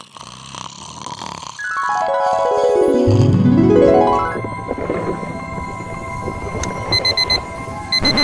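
A loud electronic pager tone sweeps downward, then a rising chirp follows; later, repeated short beeps sound over a low hum, aboard an airliner in flight.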